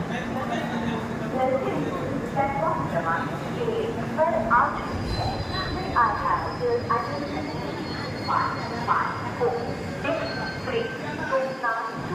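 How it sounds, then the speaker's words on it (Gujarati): A train rumbles at the busy Ujjain railway station, with people talking nearby throughout over the steady rail noise. "તમે જોઈ શકો છો આ છે મોટું રેલવે સ્ટેશન ઉજ્જૈનનું છે."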